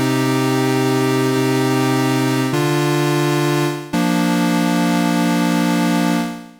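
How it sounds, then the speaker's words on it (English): Arturia MicroFreak synthesizer playing an initialized bass preset in paraphonic mode, thick sustained chords that shift three times and overlap into a dense, droning buzz, loud and clean. "And like this in paraphonic."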